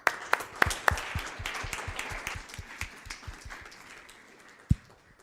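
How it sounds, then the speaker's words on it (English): An audience applauding sponsors at a closing plenary session of a scientific symposium, a spread of claps that starts strong with a few sharp loud hits, then thins and fades, with one last stray clap near the end. "Let's applaud once again our sponsors."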